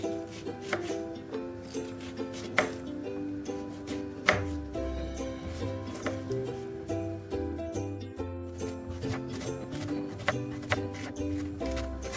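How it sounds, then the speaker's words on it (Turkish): Repeated knife chops through red cabbage on a cutting board, irregular and fairly close, with a soft tonal hum in the background. "Fakat ben doğramanın daha güzel olduğunu düşündüğüm için bu şekilde doğruyorum."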